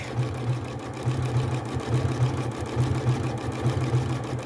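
A Janome sewing machine runs a hand-look quilt stitch, producing a steady low motor hum with regular rhythmic needle thumps repeating about three times a second, close and continuous.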